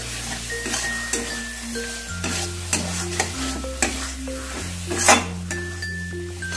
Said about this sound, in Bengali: গরম মশলা গুঁড়োটা দিয়েও আমি ভালো করে একটু কষিয়ে নেব।